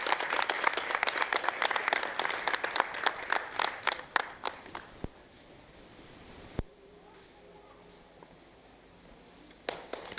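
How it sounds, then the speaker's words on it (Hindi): Audience at a stage play event claps in a burst of applause that fades after about four seconds, followed by a quieter room with a few isolated claps. "एक ज़ोरदार ताली हो जानी चाहिए"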